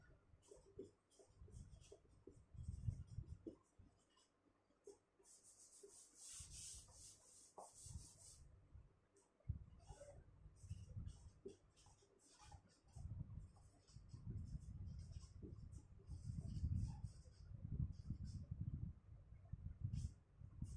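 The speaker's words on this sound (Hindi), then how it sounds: "अग्नि, वरुण, ऊपर लिख देता हूं" Chalk or marker rubbing and scratching across a board in short strokes while someone speaks in Hindi over it, with one louder burst of scraping in the middle.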